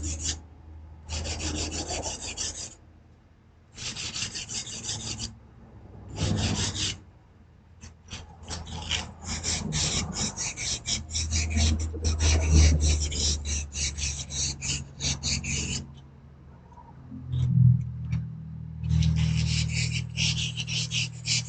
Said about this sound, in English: Just trying to get the larger burrs off of there first.